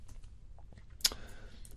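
A few soft keystrokes tap on a computer keyboard during web page editing, sparse and quiet, with one sharper click standing out near the middle.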